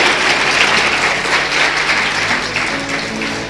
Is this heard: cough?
no